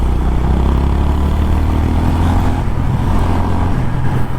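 A 2023 Honda CB350RS engine runs loud and close, a steady low rumble under constant wind rush while riding, with no clear rise in pitch.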